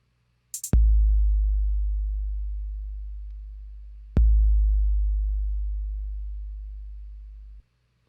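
A Max patch plays a loud, low, pure electronic tone that starts with a click, fades slowly, retriggers sharply midway, then cuts off abruptly into silence.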